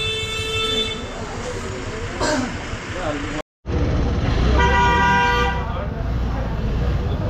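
Car horns toot repeatedly over a steady rumble of congested traffic on a busy street in Mussoorie, with horn blasts sounding near and loud throughout, broken by a brief silent gap midway.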